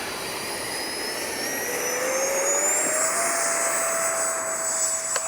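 A small jet engine whines steadily with a rising high-pitched tone, continuous and fairly loud, as an FMS Rafale 80mm RC model jet flies past.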